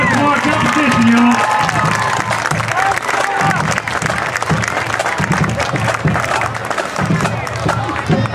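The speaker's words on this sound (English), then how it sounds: "another one more round of applause for that band and those great solos tonight" Crowd applause and cheering for a band at a high school football game halftime, a loud, continuous roar of clapping mixed with shouts and a brief whistle early on, spreading across an open outdoor setting.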